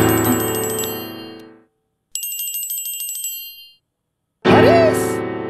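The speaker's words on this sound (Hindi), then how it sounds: "फोन करके प्यार से बबिया के बोला बबिया के फोन करी हूँ" A telephone ringtone plays during an outgoing call, two long bursts of bright electronic ringing separated by silence, loud and close, followed by a voice starting to speak.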